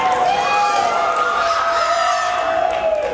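A wrestling crowd at a women's match cheers and shouts in a loud, sustained roar with high whoops and yells throughout, under a voice talking.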